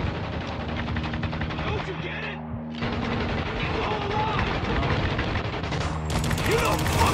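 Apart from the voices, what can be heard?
gunfire in Spec Ops: The Line video game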